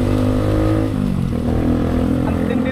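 Motorcycle engine rumbling loud and close while riding through heavy traffic near Metro Manila, a dense steady drone with slight shifts in pitch as the bike moves.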